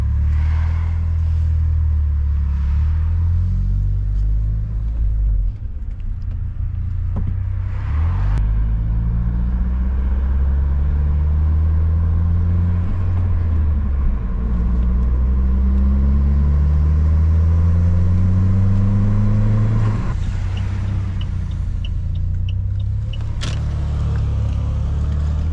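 A Saab 9-3 engine drones on while driving with a misfire skip, the steady low rumble rising and falling in pitch as it accelerates and shifts over about twenty-five seconds.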